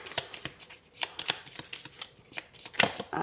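A deck of cards handled and drawn for a reading, a close series of quick papery flicks and riffles in an uneven rhythm, with no talking.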